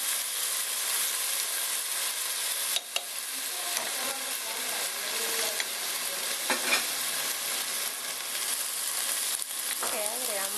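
Onion frying in a pan over medium heat, a dense, even sizzle close up with occasional stirring clicks and scrapes, heard alone throughout.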